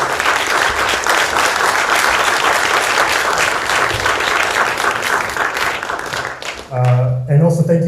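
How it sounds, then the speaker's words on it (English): Audience applause for visiting speakers at a university talk on North Korea, a dense sustained clapping from a large crowd that fills most of the clip before tapering off, followed by a brief voice at the end. "let's give a quick round of applause for having them come here all the way from DC"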